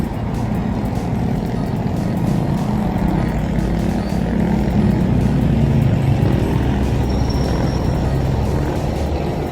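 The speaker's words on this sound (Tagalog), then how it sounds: "Ay, ang dami ng sasakyan." Steady stream of passing traffic at eight in the morning, a continuous loud low roar of many cars and trucks rolling by close at hand with no break, no voices over it.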